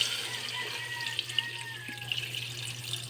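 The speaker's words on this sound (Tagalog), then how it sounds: "Ating konti ang tubig lang mga kapaders." A little water poured into a pot for cooking fish, a steady close trickle and splash with faint clinks over a low hum.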